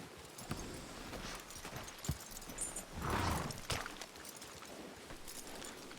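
Horses in the Red Dead Redemption 2 video game clop through a rainy setting, a few scattered hoof thuds and shuffling steps over a steady wash of rain, fairly quiet and without talk.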